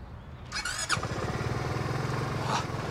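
A motorcycle engine revs up close with a brief high squeal, then settles into a steady, throbbing idle for a few seconds.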